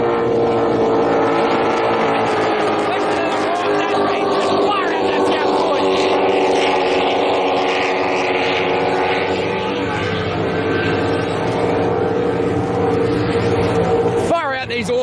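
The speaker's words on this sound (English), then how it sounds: "These awesome machines sound good on Lake Macquarie." Racing powerboats on Lake Macquarie, a loud continuous engine roar close by with shifting pitch as they pass, heard under commentary.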